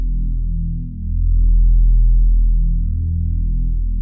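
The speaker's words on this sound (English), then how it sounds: "Pretty simple sub. It's basically an ES2." Simple sub bass patch from Logic Pro's ES2 synthesizer, a deep, sustained low tone swelling and dipping slightly in level, playing alone for about four seconds.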